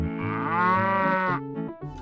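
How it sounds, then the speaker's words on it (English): A synthesized cow moo from a retro Mario video game sounds once, a single sustained buzzy electronic tone that ends abruptly and is followed by a short blip, with no talking. "Listening World has you choose the animal that makes a certain sound."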